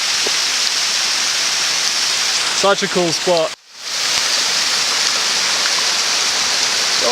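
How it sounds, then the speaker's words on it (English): A steady roar of a forest waterfall at Nannup fills the scene, with a person speaking briefly over it and a momentary dropout before the rushing resumes. "So that's the waterfall."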